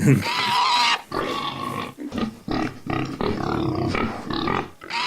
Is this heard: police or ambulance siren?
no